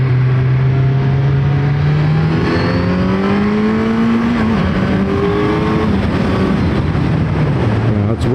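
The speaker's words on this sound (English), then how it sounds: "It's just so exhilarating to throttle this bike" Kawasaki Z900 ABS motorcycle engine heard from the rider's position, loud and continuous, pitch climbing under throttle, dipping briefly, then rising again through a corner, with heavy wind rush and no speech.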